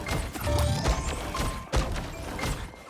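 Heavy thuds and crashing hits from smashing an onk, a creature, in a Marvel VR video game, with two strong impacts standing out over a busy, continuous wash of game noise.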